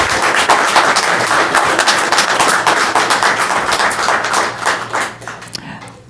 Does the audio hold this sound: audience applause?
yes